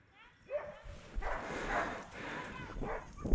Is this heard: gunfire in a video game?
no